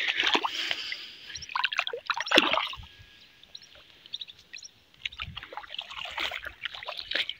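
Beside the Sindh river, water drips and trickles in close, irregular splashes and gurgles, with a quieter stretch in the middle before the lapping resumes.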